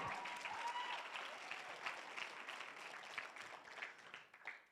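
A keynote session audience breaks into steady, moderately distant applause that holds for several seconds and begins to thin out toward the end.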